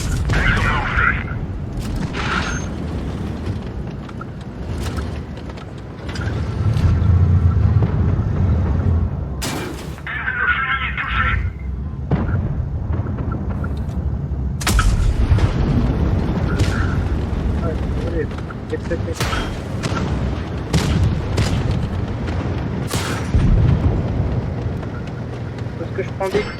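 Incoming fire strikes a tank in a video game, with repeated heavy booms and sharp cracking impacts scattered irregularly over rumbling battle noise, while a voice talks throughout.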